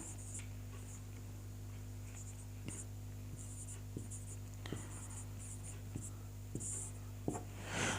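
Faint taps and short scratches of writing on a board during a Hindi lesson, scattered strokes over a steady low hum with no talk.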